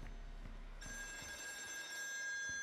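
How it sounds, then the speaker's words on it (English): A telephone rings with a steady electronic tone inside the horror game Still Wakes The Deep, set on an oil rig, heard fairly faint behind low rumbling ambience with no talk. "Phone's ringing, better answer it."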